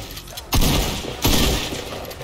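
Two loud, booming tactical shotgun blasts from a video game ring out about 0.7 seconds apart, each with a sharp attack and a fading tail over a faint background.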